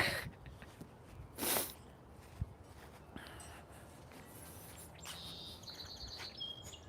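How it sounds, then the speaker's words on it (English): Birds chirping outdoors, including cardinals, sounding as a few faint scattered calls against a quiet background with occasional brief knocks and rustles. "Hearing the birds chirp is awesome."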